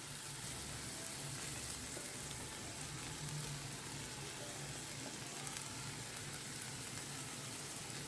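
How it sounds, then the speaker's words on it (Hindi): Masala frying in a pan, a steady, even sizzle that runs unbroken for several seconds, close but fairly quiet, with no talking. "जो बाउल में जो मसाला लगा है ना यहाँ पे उसको थोड़ा फ्राई करते हैं"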